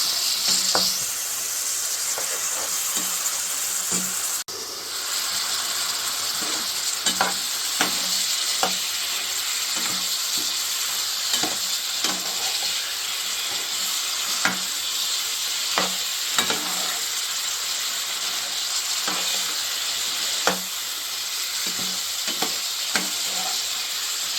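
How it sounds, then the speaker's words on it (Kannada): Chilli chicken with dark soy sauce sizzling steadily in a pan, a constant loud hiss broken by repeated scraping taps of a spoon stirring the pieces, no voices. "ಇವಾಗ ಸೋಯಾ ಸಾಸ್ ಹಾಕ್ತಾ ಇದ್ದೀನಿ. ಮಿಕ್ಸ್ ಮಾಡ್ತಾ ಇದ್ದೀನಿ."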